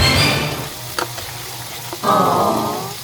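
Garlic frying in a pan, with onion then added, gives a steady sizzle with a few soft stir clicks and a fresh burst of sizzling as the onion goes in.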